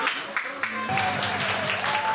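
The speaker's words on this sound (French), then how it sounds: "On applaudit bien fort le Maroc, mesdames et messieurs." Audience applause at an intercultural festival at a castle in Belgium, a steady burst of clapping from a crowd with some voices and a sustained tone mixed in, fairly loud and continuous throughout.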